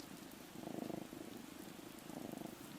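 A pet cat purrs up close at home, a soft low rumbling in two slightly louder swells over steady faint background noise.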